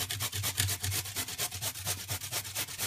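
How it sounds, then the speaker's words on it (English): Pumpkin with the outer skin removed is rubbed against a grater for halwa, a steady, fast rasping scrape in a regular back-and-forth rhythm, close and fairly soft, with no talk. "you have to grate the pumpkin."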